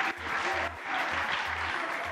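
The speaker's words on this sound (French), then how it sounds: "On l'applaudit, s'il vous plaît." An audience at a quiz-show final applauds in a short burst of clapping that fills the room, heard at a moderate distance with a faint voice or two underneath.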